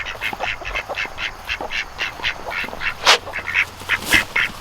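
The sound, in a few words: ducks quacking on a homestead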